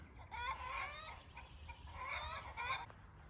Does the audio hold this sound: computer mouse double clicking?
no